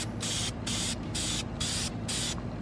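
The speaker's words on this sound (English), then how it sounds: "spray paint this, just do it about 6 inches away" Car valve covers get a light coat of primer from a spray can, five or six short, even hissing bursts with brief pauses between them, close and fairly loud.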